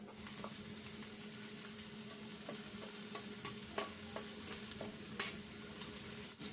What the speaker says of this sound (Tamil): வெங்காயம் நல்லா வதங்கணுமேனாக்கா ஆனா இப்படி சட்டி ஃபுல்லாக இருக்குது